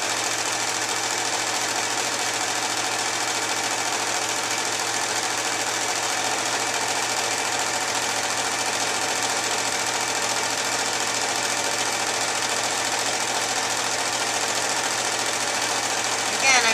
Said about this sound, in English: I'm going to have a really fast machine and slow moving hands